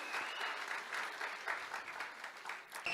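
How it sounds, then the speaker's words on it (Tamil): Applause fills a hall after a Tamil political speech at a TVK event, a steady dense wash of many hands clapping throughout, moderately loud with no talk over it. "அரங்கம் நிறைந்த கைத்தட்டல்."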